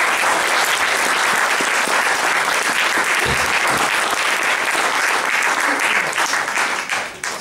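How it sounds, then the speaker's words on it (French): Sustained, dense applause from a theatre audience for performers after a show, loud and close throughout, tapering slightly at the very end. "Je vous demande de les applaudir encore."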